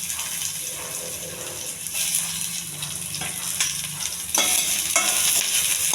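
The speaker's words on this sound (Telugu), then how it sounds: "ఇది కొద్ది దోరగా వేగాలండి." Onions sizzling in hot oil with cumin and dried red chillies in a heated pan, stirred with a spatula scraping now and then, continuous crackling fry throughout.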